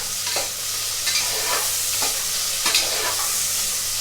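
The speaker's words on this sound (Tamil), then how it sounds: "இதை கொஞ்சம் வதக்கிக்கலாம்." Onions and curry leaves sautéing in oil for chicken kulambu, stirred in a pan: a steady close sizzle with a few scraping stir strokes, heard alone.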